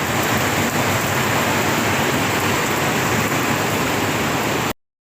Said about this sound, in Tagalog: Mas mabuti na rin yung umulan kasi grabe ang init na nakaraan